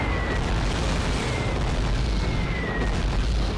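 Continuous rumbling artillery shelling explosions in Call of Duty: Roads to Victory, a dense, loud wash of booms with no clear gaps, heard alone without talk.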